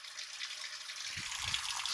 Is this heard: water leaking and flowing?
yes